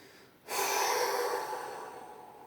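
A single deep breath taken during meditation, with a sudden close inhale and a long, airy exhale that slowly fades, heard alone.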